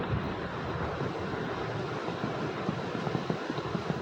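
Dry, cold wind blows steadily outdoors, a continuous close rushing roar buffeting the microphone with no voices.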